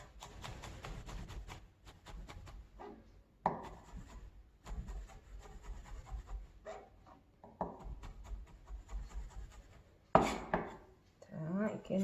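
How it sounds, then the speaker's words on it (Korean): A knife minces green onion and garlic on a cutting board in a Korean cooking class, with quick bursts of soft tapping chops broken by pauses and someone talking over them. "파 마늘 다지는 거는 정말 이걸로 시간을 많이 빼면 안 돼요"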